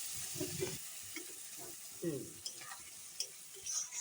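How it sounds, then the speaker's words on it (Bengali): A spice paste of chilli, cumin and coriander sautés in a wok, giving a soft, steady sizzle with intermittent scraping and stirring clicks from a utensil. "দেখো মশলাটা কত সুন্দর কষানো হচ্ছে"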